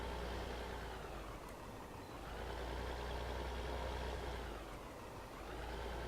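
A steady tractor engine drone in Farming Simulator 2015 hums at even loudness with slight swells, like a tractor idling and pulling away, with no voices.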